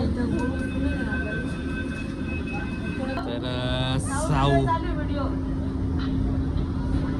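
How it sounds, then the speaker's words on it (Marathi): Inside a moving metro train, a steady low rumble and hum of the carriage runs throughout, with a tonal whine rising and falling midway; voices are faintly audible over the ride noise. "तर आता पिकू बसलेली मेट्रोमध्ये."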